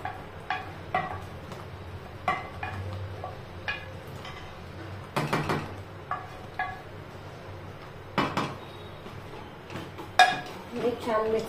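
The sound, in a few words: stirring mango pulp and coconut barfi mixture in a pan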